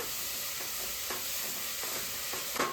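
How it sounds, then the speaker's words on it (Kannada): Green chillies and ginger garlic paste fry in a home kitchen pan, a steady soft sizzle broken by a few faint scrapes of stirring, with no talking. "ಅದನ್ನು ಹಾಕಿ ನಾನಿಲ್ಲಿ ಸ್ವಲ್ಪ ಇದನ್ನು ಚೆನ್ನಾಗಿ ಫ್ರೈ ಮಾಡ್ಕೋತೀನಿ"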